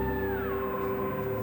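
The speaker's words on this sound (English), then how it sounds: "A large amount of that music is actually engine sounds like this." In rFactor 2 menu music, a steady, droning engine hum sits under a sustained tonal pad, with a slowly gliding pitch line drifting downward, continuous and moderately quiet.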